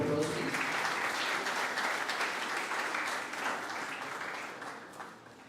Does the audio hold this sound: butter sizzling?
no